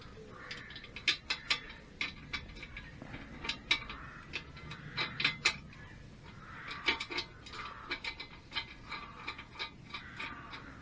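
Spring washers and nuts are fitted by hand onto the front mudguard of a BSA A50 motorcycle. Small metallic clinks and taps come in irregular clusters, close and quiet, with no voices.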